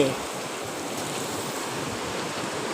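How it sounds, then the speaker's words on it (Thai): A forest stream flowing beneath a footbridge makes a steady, broad rushing wash, fairly soft and unbroken, with a brief louder touch at the very start. "เป็นลำธารนะครับ"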